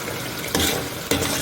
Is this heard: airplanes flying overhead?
no